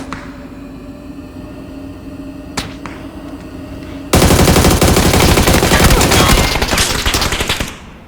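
Loud, sustained automatic gunfire in PUBG roars in after a quieter stretch of background hum, then cuts off near the end.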